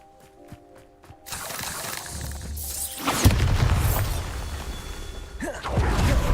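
The Bombarda blasting spell in Hogwarts Legacy goes off as a heavy, loud explosive boom with crashing debris and rumble, after a few faint magical tones, then a second surge of blast noise near the end.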